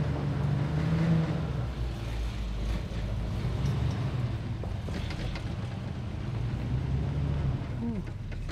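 A 1964 Buick LeSabre driving after storage, heard as a constant low engine and road rumble inside the cabin with wind buffeting and rattles, fairly quiet overall.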